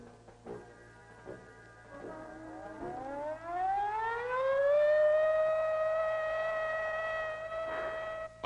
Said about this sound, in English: Attack warning came at 2015 hours.